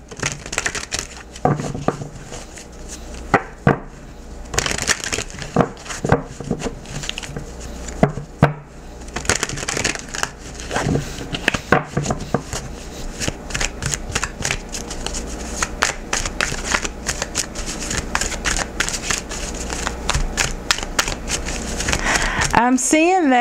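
Tarot cards being shuffled: a steady riffling and crackling of card stock with sharp, repeated slaps, loud and close throughout, while a voice talks over it.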